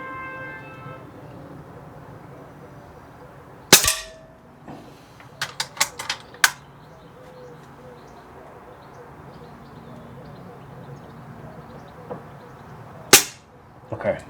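Uragan 3 walnut-stocked air rifle firing pellets, with two sharp, loud cracks well apart and a quick cluster of smaller clicks and snaps between them, against a quiet outdoor background with faint birdsong.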